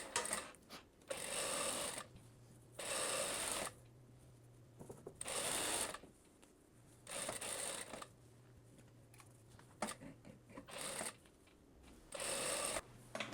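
A sewing machine stitches the lower seam of a blouse in short runs of about a second, with brief mechanical clicks and fabric handling in the pauses between them, close and without talk.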